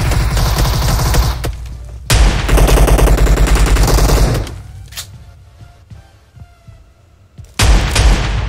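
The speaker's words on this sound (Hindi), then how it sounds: "मैंने शॉट गन मारी वो इसको नहीं लगी, मिस होगी" Shotgun blasts in PUBG Mobile: three loud, close booming shots spaced a couple of seconds apart, each with a ringing tail, and quieter clicks and movement between them.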